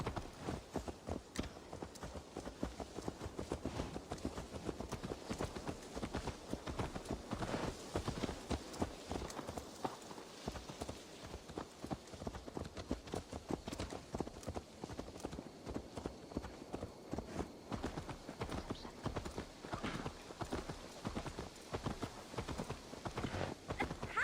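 A horse's hooves clip-clopping in Assassin's Creed Valhalla, a steady rapid rhythm of close hoofbeats that continues throughout, with faint game ambience behind.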